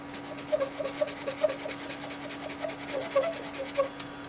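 Dry scratchy rubbing of a Conté à Paris sketching pencil on paper, close and quiet, with short uneven strokes repeating in a loose rhythm, no voices.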